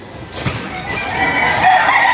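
Chickens clucking and calling outdoors on a farm in Montalban, Rizal, Philippines, with a bright rising crow-like cry toward the end over steady background noise.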